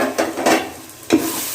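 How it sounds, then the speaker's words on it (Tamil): Ginger garlic paste sautéing in a pan with onions for mutton biryani, heard as a hissing fry broken by three scraping stirs, close and fairly loud. "இஞ்சி பூண்டு பேஸ்ட்டு போட்டு ஒரு 2 மினிட்ஸ் நல்லா வதங்கணும்"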